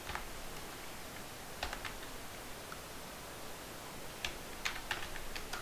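Scattered light clicks of a computer keyboard being typed on during coding work, faint irregular taps in small bursts over a steady hiss, with no talking.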